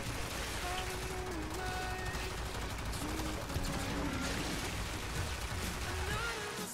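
A beam weapon firing continuously in the Warframe video game, a dense crackling, rain-like hiss with wavering tonal hums running throughout at steady loudness.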